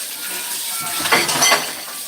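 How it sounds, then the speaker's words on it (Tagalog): Dishes being washed in a sink give a few light clinks of plates and cutlery over a steady hiss of running water, close by and brief. "Hugas-hugas tayong pinggan."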